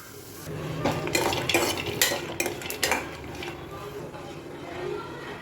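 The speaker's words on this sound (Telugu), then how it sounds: "కాకపోతే వేపడం మొదలెట్టా దోరగా వేగాలి" Ingredients for homemade ice cream are dry-roasted in a pan while a utensil stirs them, giving a run of close scraping strokes and metallic clinks over a low background hum.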